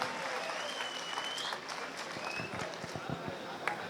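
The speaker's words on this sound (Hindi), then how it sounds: "जोरदार तालियों के साथ अभिवादन करें" Audience applause at a Hindi-language event as Advocate Seema Samriddhi Kushwaha is welcomed to the stage, steady dense clapping from a crowd with voices mixed in, holding at an even level throughout.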